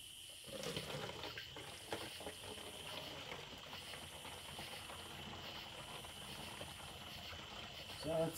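Running water rinses out a sulfuric acid gold stripping cell after cleaning with paper towel and baking soda, a steady hissing splash continuing outdoors for several seconds with faint background noise.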